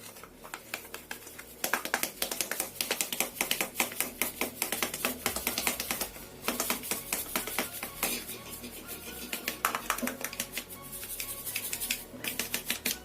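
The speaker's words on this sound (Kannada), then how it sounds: "ಹಸಿಟ್ಟಿನ ಜರಡಿಗೆ ಹಾಕೊಂಡು ಜರಡಿ ಹಿಡ್ಕೋಬೇಕಾಗುತ್ತೆ." Ground rice flour with cardamom is shaken through a fine sieve for thambittu, giving a close, rapid, rhythmic patter of tapping and scraping that continues with a few brief pauses.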